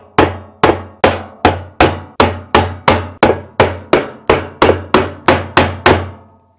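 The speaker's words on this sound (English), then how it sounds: "you can hammer directly on the shaft of the clutch" A hammer strikes the clutch shaft of a Samsung WA456DRHDWR/AA washing machine during disassembly, about fifteen loud, evenly spaced metallic blows in a steady rhythm, close and alone.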